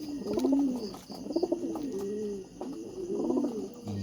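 Racing pigeons coo softly in a basket, repeated low rolling calls in a steady rhythm, close by and fairly quiet with no talk.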